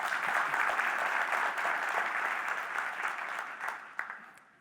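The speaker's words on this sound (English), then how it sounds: "Round of applause for her" Audience applause for a model at a photography posing workshop, a full steady clapping crowd that swells then gradually tapers off, with a louder single clap near the end.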